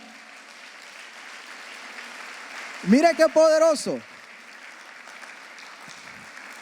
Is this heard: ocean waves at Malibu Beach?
no